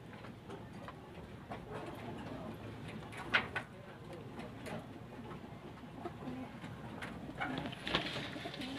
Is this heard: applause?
no